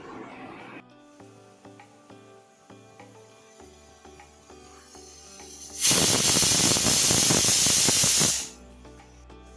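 A pressure cooker of chana with onion and salt blows its whistle, a loud rushing hiss of steam that bursts in abruptly, holds for a few seconds and cuts off, after quieter kitchen clinks.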